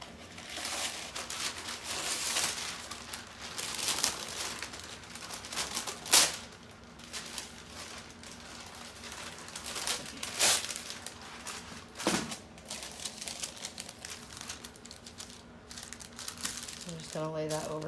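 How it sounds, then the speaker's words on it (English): Parchment paper crinkles and rustles in irregular bursts as it is handled near a heat press beside a Perler bead project, with a few sharper crackles and someone speaking at times. "I'm going to grab my parchment paper."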